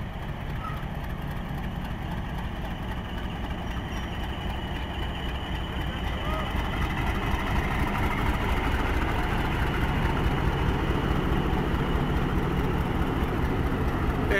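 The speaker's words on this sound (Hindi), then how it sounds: "एक ज़बरदस्त साउंड है PH-20 का, चगिंग साउंड।" A CRRC PH-20 diesel locomotive hauling a shuttle train out of Malakwal Junction under throttle gives a steady low engine chug and rumble, continuous and fairly loud throughout.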